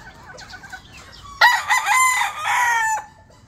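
Hens cluck and squawk in a busy burst close by in a small backyard chicken coop, a quieter rustle before it, the clucking lasting a couple of seconds.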